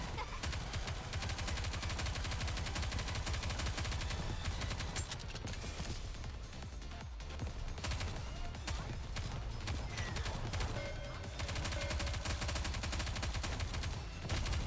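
Rapid, dense gunfire from many weapons in the mobile shooter Goddess of Victory: Nikke, with sustained automatic bursts over game music and occasional character voices.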